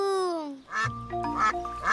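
A cartoon duck gives a few loud nasal quacks in quick succession, close by, following a brief high whistling tone.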